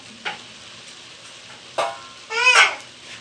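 Drumstick (moringa) leaves fry in a pan without oil, heard as three separate bursts of crackling sizzle, the last one longest and loudest, with near silence between them and a child's babble faintly mixed in.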